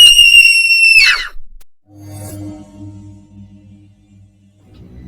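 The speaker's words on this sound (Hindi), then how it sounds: "तभी ऊपर के कमरे से जोर से चिल्लाने की आवाज आई।" A loud, high-pitched scream from an upstairs room rings out for about a second and then breaks off, followed by quieter low tonal sounds.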